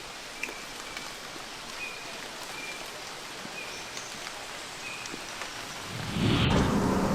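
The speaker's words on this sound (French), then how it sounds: "Bon bah super, il pleut." Steady rain falls outdoors near Cairns, Australia, a dense even hiss of drops, with a louder rush of heavier rain or wind building near the end.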